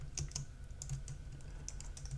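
Quiet, steady typing on a computer keyboard, with soft irregular key clicks over a low room hum and nobody speaking.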